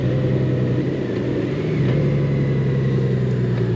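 Engine of a Honda Goldwing Tour DCT motorcycle idling and rolling slowly through a tight U-turn on a narrow road, a steady low rumble that swells briefly mid-turn, close and continuous with no talking.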